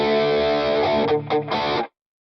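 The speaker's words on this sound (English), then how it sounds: "Now, the true test is putting some chorus." Distorted electric guitar through Two Notes Genome software with a Marshall EL34 power amp and chorus, a sustained chord with two quick re-strums, ending abruptly into silence.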